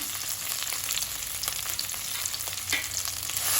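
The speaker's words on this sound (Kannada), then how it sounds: "ತುಪ್ಪ ಕಾಯ್ತಿದ್ದಾಗೆ ಈ ಹೆಚ್ಚಿಟ್ಕೊಂಡಿರುವಂತಹ ಕಂಚಿಕಾಯಿಗಳನ್ನು ಹಾಕಿ ಹುರ್ಕೊಳ್ತೇನೆ" Chopped kanchikai citrus frying in ghee on a hot tawa, a loud, steady close-up sizzle with crackling pops throughout and no voices.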